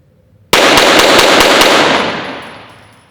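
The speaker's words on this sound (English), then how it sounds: "So we're going to go ahead and shoot 6 rounds here and show you guys what the dot looks like under recoil." Six rapid gunshots from a handgun fitted with a red dot sight at an outdoor range, loud and close, fired in a quick even string, with a long echo decaying afterward.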